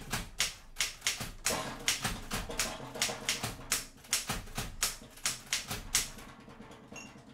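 A typewriter is typed at a steady, brisk rhythm, with sharp keystroke clacks close up and clear. No voices are heard, and the typing stops shortly before the end.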